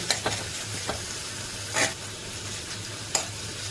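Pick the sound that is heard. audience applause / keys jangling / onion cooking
onion cooking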